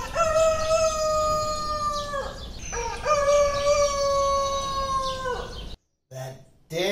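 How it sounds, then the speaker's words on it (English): A rooster crows twice in long drawn-out calls, loud and close, over steady outdoor background noise, and a short burst of other sound follows at the end. "That damn rooster."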